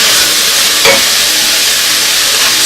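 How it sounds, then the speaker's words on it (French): Wild mushrooms sauté in oil in a hot pan, giving a steady, dense sizzling hiss with one brief stir or scrape near the start. No one speaks. "on fait revenir le tout jusqu'à temps que ce soit amolli"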